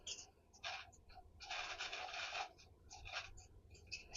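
Short bursts of scratchy marking strokes on fabric cut for shorts, several quick rubs and one longer stroke, close and faint with no talk.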